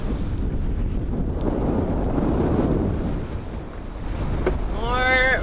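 Strong gusts in the high twenties roar across the microphone aboard a heeling sailboat, a loud continuous rumble that swells and eases, with a brief whistling tone near the end.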